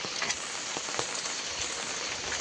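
Steady broadband rain falling on surfaces in a Konkan village during the season's first downpour, a continuous hiss with scattered drop patters, no voices.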